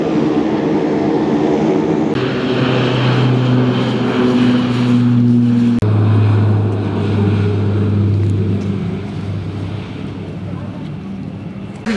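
A Thai Aero calibration flight aircraft flies over Gautam Buddha International Airport, its steady engine drone loud and continuous with shifting tones, then fading slightly toward the end.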